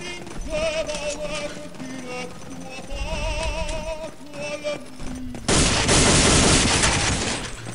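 Gunfire in the World War II shooter Day of Defeat: a dense burst of shots and blasts rises loud near the end over steady game noise and music-like tones.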